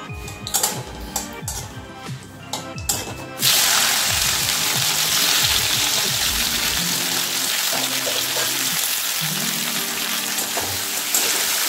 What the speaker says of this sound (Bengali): এবার তেলটা গরম হলে ফোড়ন দিয়ে দেবো, শুকনো লঙ্কা দেবো, সামান্য কালো জিরে।